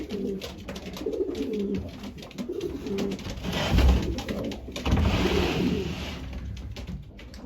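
Racing, white and Birmingham roller pigeon cock birds coo in low, throaty bursts, several birds overlapping at close range over a steady background hum, with a few louder swells.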